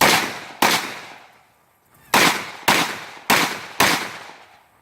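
Rifle gunshots at an outdoor CQB rifle match, five sharp loud cracks: one early, then four in a quick steady string, each ringing out with a decaying tail.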